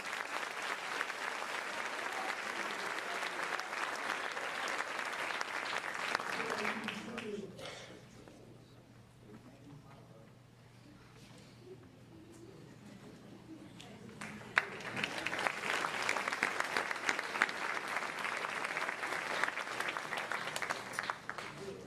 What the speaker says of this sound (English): Please join me in one more round of applause for our Hall of Fame inductees.